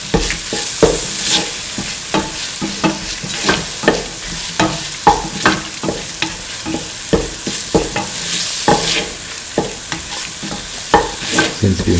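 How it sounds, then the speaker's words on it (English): Chili duck is stirred in a frying pan, a steady series of scraping, clattering strokes repeating every half second or so over a soft, continuous sizzle, close and fairly loud with no voices. "Thoroughly mix."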